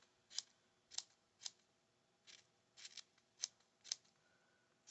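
Sharp metal scissors snip through yarn while a snow beanie ornament is trimmed, giving about seven crisp, close cuts at an uneven pace with short quiet gaps between them.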